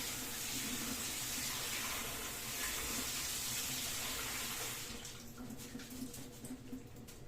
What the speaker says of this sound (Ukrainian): Промиваю холодною водою.